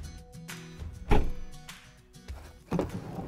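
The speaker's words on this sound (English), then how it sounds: "It's also very easy to open the door in tight spaces." The sliding side door of a 2014 Ford Tourneo Connect van opens with a soft rolling rumble, broken by a sharp thunk and another solid knock a moment later, fairly close and with no talking.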